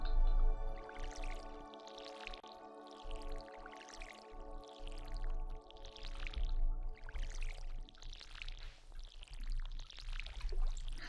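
Watering crops in the farming video game Stardew Valley, a soft splashing pour that repeats in several short bursts over a steady background music bed.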